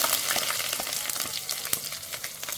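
Sliced onions and ginger-garlic paste frying in hot oil with fenugreek in a pan for a fish curry, a dense steady sizzle with scattered crackles and spatula scrapes, close and continuous.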